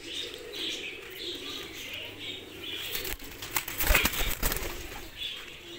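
Pigeons in a loft, with soft cooing and then bursts of wing flapping and rustling near the end, heard close over faint background noise.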